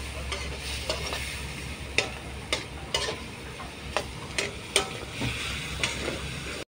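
Pancit bato noodles frying in a pan with cabbage nearby, a steady low sizzle broken by irregular scraping clicks as a utensil stirs and tosses them, close and fairly quiet with no talking.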